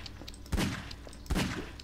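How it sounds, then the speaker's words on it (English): Two gunshots in the video game Garry's Mod, each a sudden muffled boom about a second apart, set against a low steady game background. "I hear gunshots."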